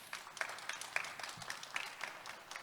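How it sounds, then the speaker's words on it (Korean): An audience at a Korean seminar on agriculture as an advanced industry applauds to welcome a speaker, a soft, steady patter of many hands clapping for a few seconds. "큰 박수로 맞으시기 바랍니다"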